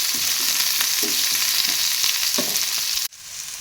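Onions frying in a pan, a loud, dense, continuous sizzle heard up close with a few stirring scrapes, cutting off sharply near the end; no one talks.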